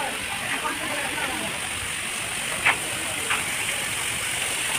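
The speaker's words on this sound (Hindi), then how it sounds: "यहाँ पे देख सकते हैं आप, पानी का झरना बनाया गया है" An artificial waterfall fountain at Vandalur Zoo in Chennai gives a steady, even rush of falling water that fills the whole scene, with a couple of faint brief knocks over it.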